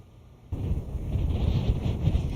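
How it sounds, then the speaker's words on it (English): Wind roars in gusts across the microphone during a tropical storm warning in Cameron, Louisiana, starting abruptly and staying loud and steady with no talk. "As you can tell, it is already pretty windy"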